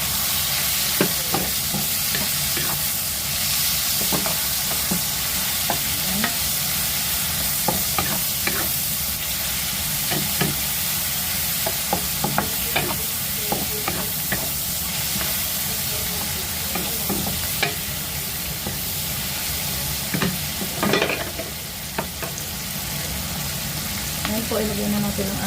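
Tomatoes sauté in a pan with a loud, continuous sizzle, broken by repeated scraping and clattering stirs of a utensil throughout.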